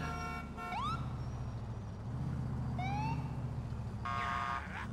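A car horn in GTA IV sounds as a brief blaring honk near the end, following rising electronic chirps over a constant low rumble of engine and traffic, with no talking.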